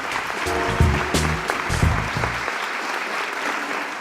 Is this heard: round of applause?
yes